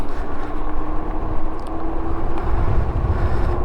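A Victrip R6 mini electric bike rides during a brake test, giving a steady low rumble and motor hum with wind buffeting, loud and close, with no voices.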